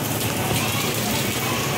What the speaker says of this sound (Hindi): ये देखो गाइस कितनी तेज बारिश हो रही है।